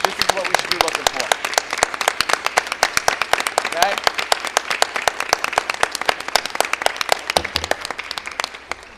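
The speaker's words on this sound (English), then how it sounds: "Adults, let's clap." Adults clapping in applause for students at a school district meeting, a dense, steady patter of many hands filling the room, with a brief spoken word over it.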